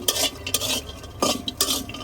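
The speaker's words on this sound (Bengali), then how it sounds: "এখন এই যে লটকে শুটকিটা দিয়ে আমি সুন্দর করে টাইলা নিব।" Dried lotia fish (shutki) is stir-fried in a hot wok, with a spatula scraping and clattering against the metal in uneven bursts over a faint sizzle, close and without talk.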